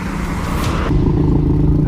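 A loud Honda Civic engine roars and rises in pitch as it revs up close, over heavy road rumble on a South African driving road.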